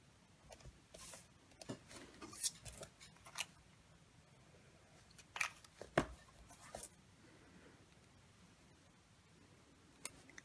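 Paper strips for card making are trimmed with scissors, heard as faint, scattered snips and small clicks against a quiet room, close by and with no talking.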